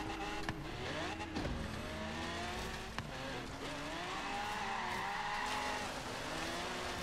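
Racing car engine in Forza Horizon 3 revs and shifts steadily for several seconds, with tires squealing and skidding in short bursts over a continuous dense engine drone.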